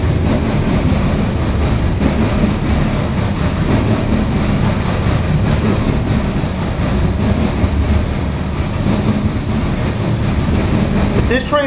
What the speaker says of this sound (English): This train's going to Cumberland, Maryland.